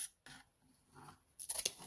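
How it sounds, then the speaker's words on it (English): Scissors snip through lawn chair webbing in a few close, crisp cuts, one short one early and a quick cluster near the end, with quiet pauses between. "Take about an inch over here, and then just take your scissors"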